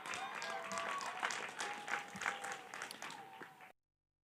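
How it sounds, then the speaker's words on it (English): Audience at a College of Engineering and School of Social Work graduation clapping and cheering for alumni, a moderate, somewhat distant wash of applause with voices mixed in that cuts off abruptly. "Give them a big cheer"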